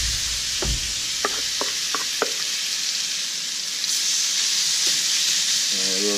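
Venison fajita meat sizzles steadily in a hot pan outdoors, a constant bright hiss with a few light taps and clicks from utensils on top.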